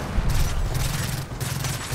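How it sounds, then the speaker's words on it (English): Sustained burst of gunfire in Gears of War 4, a dense rapid rattle of shots filling the whole stretch with only a brief dip partway through, loud and close with no talking. "I was trying to shoot the pot."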